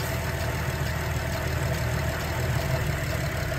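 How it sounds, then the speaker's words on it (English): A Buick Enclave engine idling with its AC compressor engaging, a steady low hum and drone that holds evenly throughout without any talking. "Now we got the compressor starting to kick on"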